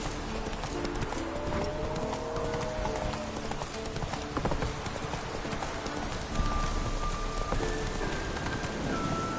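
Roach the horse's hooves clopping steadily in The Witcher 3: Wild Hunt, a continuous close rhythm of hoofbeats over a rainy, hissing backdrop with faint whinnying tones.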